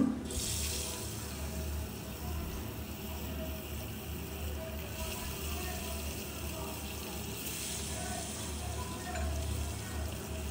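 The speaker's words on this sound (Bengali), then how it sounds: "তেলটা গরম হয়ে গেলে মাছগুলো আমি দিয়ে দিচ্ছি" Soft, steady sizzling hiss of koi fish frying in hot oil, fairly quiet and continuous, with faint bursts of spattering now and then.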